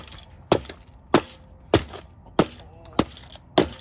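A blocked chicken feeder is shaken free in six sharp, evenly spaced knocks, each a loud close rattle with a short decay.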